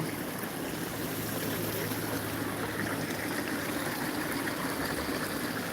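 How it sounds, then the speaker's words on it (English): Water trickling steadily at a plant nursery, a continuous even wash of moderate level running alone with no talk. "When you hear that water, that means relaxation."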